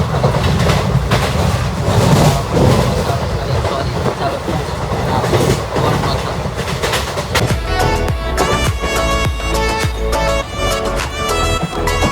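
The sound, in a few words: train ride interior on way to Haridwar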